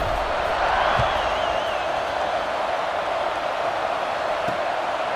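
Home crowd at a Penn State versus Auburn football game: a sustained, distant roar of cheering fills the stadium, with a whistle-like whoop rising above it early on.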